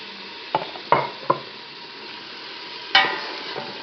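Tomato sizzles in a pot of fish and okra soup, a steady frying hiss broken by several sharp scraping stirs and knocks against the pot.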